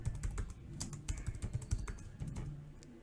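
Quick bursts of keystrokes on a computer keyboard, close and fairly quiet, with a brief pause partway through.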